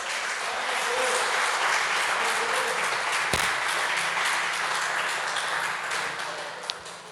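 A church congregation applauds during a Portuguese-language evangelical service, producing a sustained wash of clapping from many hands. It swells and holds for several seconds, then tapers slightly, with a sharp knock partway through.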